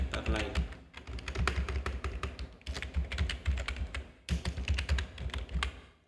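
Keys are typed on a computer keyboard during AutoCAD drafting, with clusters of quick, close clicks and taps broken by short pauses across several bursts. A voice speaks faintly underneath.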